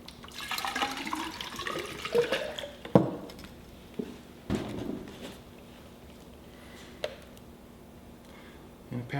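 Distilled water is poured from a graduated cylinder while preparing cyanotype paper, a close trickle with scattered clinks and taps of glassware.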